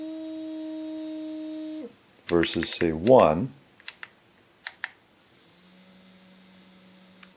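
A remote dog training collar vibrates with a steady buzzing hum, then goes quiet for a short spoken remark and a few clicks, then returns with a fainter, lower buzz at a gentler setting.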